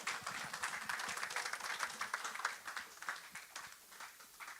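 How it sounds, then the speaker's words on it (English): Applause from an audience at a church conference meeting: dense, steady clapping that fills the whole stretch at moderate volume, with no clear voices over it. "So let's give him a round of applause."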